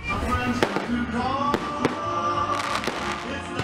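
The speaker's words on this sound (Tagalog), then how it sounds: "Feel na feel ang Pasko, lalo't may pa-fireworks display pa." Fireworks bursting in a series of sharp booms and crackles at a Christmas display in Las Piñas, several loud pops spaced irregularly over a crowd murmur.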